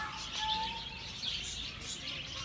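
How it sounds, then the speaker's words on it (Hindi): Small birds chirping in an outdoor park, a few bright high tweets and short calls scattered over a soft open-air background. "गाइस आवाज चिड़ियाओं की, इतनी sweet sweet sweet sweet sweet इधर से आ रही है"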